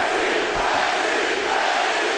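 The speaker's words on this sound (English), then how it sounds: "the crowd roars behind the hometown favorite, Jeff Lacy" An arena crowd at a boxing bout roars for the hometown fighter, a loud, steady wall of cheering that fills the whole stretch with no single voice standing out.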